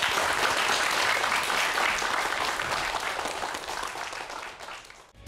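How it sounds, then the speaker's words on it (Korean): Studio audience applauding at the close of a televised lecture on artificial intelligence and jobs, a dense, steady wash of clapping that holds loud for most of the stretch, thins toward the end and cuts off abruptly. "큰 박수 부탁드립니다."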